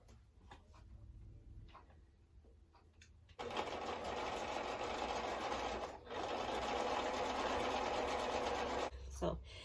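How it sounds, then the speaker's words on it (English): A sewing machine stitches nested quilt pieces together without pins, running steadily and loudly for several seconds after a few quiet ticks and handling sounds, with a brief pause partway through. "I'm just going to nest it together and sew it."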